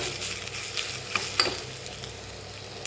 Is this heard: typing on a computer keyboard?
no